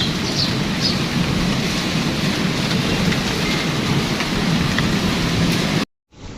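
Steady rain with rumbling thunder in Islamabad, heard through an open window as a loud, continuous hiss with deep low rolls, cutting off briefly near the end.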